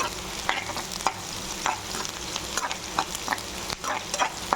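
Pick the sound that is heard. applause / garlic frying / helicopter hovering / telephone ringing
garlic frying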